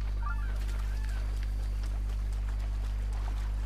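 Ducks in the video game The Legend of Zelda: Breath of the Wild give a couple of short nasal quacks early on, partly masked by a loud, steady electrical hum throughout.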